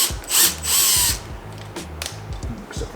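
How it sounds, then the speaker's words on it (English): A power drill whirs in short bursts while the bit slips, catching and chattering with a rapid ratcheting rattle as it drills into a TH350 transmission, close and loud. "Except for my drill bit slipping."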